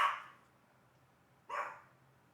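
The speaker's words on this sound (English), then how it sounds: "he's right to bark because they're like literally talking right in front of my house" Dog barks twice, a short sharp bark at the start and another after a pause, somewhat distant against a quiet background.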